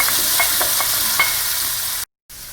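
Zucchini sizzles in a hot frying pan where shrimp were just cooked, a loud steady hiss with light stirring clicks, cut off abruptly near the end.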